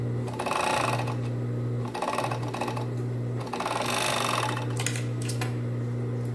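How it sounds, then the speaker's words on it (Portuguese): A sewing machine stitches a bikini top in steady running bursts, humming continuously with brief pauses near two and three and a half seconds, close and loud with no talking. "Só cuidado pra não costurar a alça, que ela tá toda emboladinha aqui dentro."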